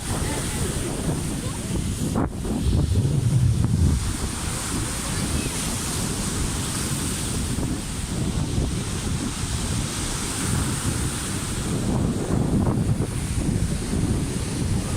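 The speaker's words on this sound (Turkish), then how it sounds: "Dalgaya bakın" Sea waves wash onto a stony beach at Gemlik on an overcast day, with steady surf roar and heavy wind buffeting the microphone throughout.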